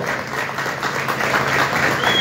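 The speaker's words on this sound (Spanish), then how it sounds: "¡Aplauso!" A crowd applauds steadily, a dense wash of clapping that holds at an even loudness throughout.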